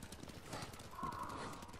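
Horse hooves clip-clop faintly in the Ghost of Tsushima video game, a soft irregular patter mixed with low game ambience and a brief tonal sound midway.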